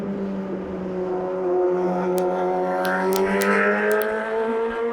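Cars on a main thoroughfare in Washington, D.C. drone and rev steadily nearby, an engine note rising and shifting as vehicles pass, with brief sharp clicks over the traffic.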